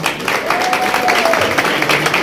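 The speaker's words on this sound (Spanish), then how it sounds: "un aplauso para todos ustedes" A crowd applauds at Sonora Santanera's holiday posada celebration, loud continuous clapping filling the short stretch with no pause.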